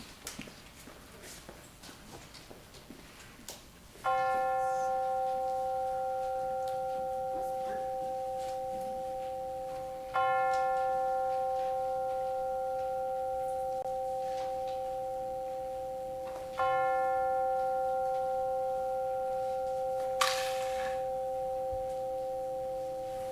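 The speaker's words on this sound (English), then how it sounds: "let us center our hearts and minds with the ringing of the bell." Three separate strikes of a bell during a worship service, each a clear ringing tone that slowly decays before the next, evenly spaced and fairly close, with little else around them.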